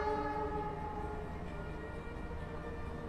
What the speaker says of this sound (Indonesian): Kereta Kamandaka dari stasiun Semarang Tawang tujuan stasiun Cilacap.